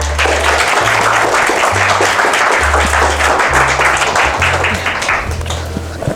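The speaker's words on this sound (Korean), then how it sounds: "큰 박수로 맞이해주세요." Audience at a young farmer's talk concert at a college applauds to welcome the speaker, a loud sustained wash of clapping, with low musical tones playing in an intermittent pattern beneath it.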